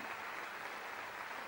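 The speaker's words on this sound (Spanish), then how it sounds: "Que continúe el aplauso" Audience applause at a live show in a provincial venue, a steady, faint wash of many hands clapping continuously with no break.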